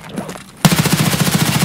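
Rapid automatic gunfire in a video game, a loud, close burst of evenly spaced shots that starts abruptly and keeps going steadily, with no talking over it.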